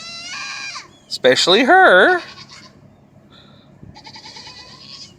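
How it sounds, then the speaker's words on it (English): Goats on a farm yell out in the rain, one loud, wavering bleat rising and falling close by, with fainter calls from others before and after and a brief spoken remark. "Our goats don't care about the rain. They love to yell, though."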